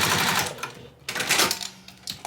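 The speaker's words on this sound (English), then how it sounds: "Definitely back stitch there, take out all these clips." A sewing machine back stitches binding on a fabric pouch in quick, close, uneven bursts of rapid mechanical stitching, with brief pauses between runs and no talking.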